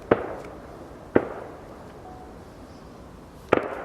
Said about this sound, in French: On entend bien les tirs quand même.